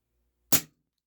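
A single sharp crack from a Cybergun Taurus PT24/7 G2 airsoft pistol, close and clean, with a quick decay into silence.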